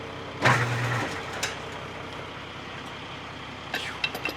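A belt-driven farm grain auger, with its fill auger packed with wet corn, runs with a steady, loud mechanical drone. A louder knock comes near the start and sharper rattles near the end.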